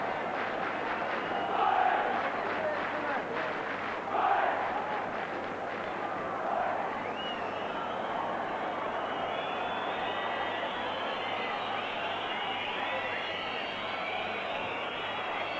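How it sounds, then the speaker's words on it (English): Nottingham Forest football crowd chanting at a match against West Ham United, a broad, distant roar of massed voices with rhythmic swells. "You're not singing anymore, is the cry from the Forest crowd"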